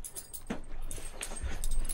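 A pet dog whimpers and whines in short, soft bursts close by, with faint yips scattered through a quiet room.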